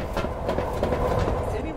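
Steady clickety-clack of a passenger train rolling along, a continuous rumble inside the carriage in a murder mystery game set on an express, with voices talking over it throughout.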